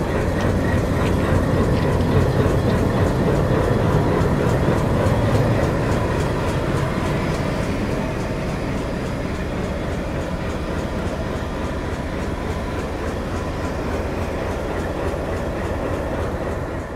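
Rupsha Bangla Express on the Benapole–Dhaka route, hauled by locomotive 6550, gives a loud, continuous rolling rumble with steady clickety-clack from the coaches that holds for the whole stretch, with no voices.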